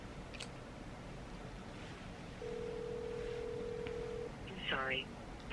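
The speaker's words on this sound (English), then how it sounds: "I'm going to call the nail salon first." A phone call placed to a nail salon: a short tone, then a steady ringback tone lasting about two seconds, followed by a brief burst of dialing-like tones, faint against a hissy background.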